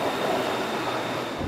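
A Bangkok SkyTrain on an elevated line rolls past close by, a loud, steady rumble and hiss of wheels on rail with no pauses.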